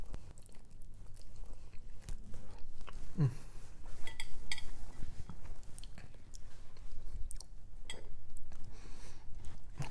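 Someone eats a plate of carbonara, with soft close chewing and mouth sounds mixed with occasional light clinks of a fork against a dish, all fairly quiet with faint room noise.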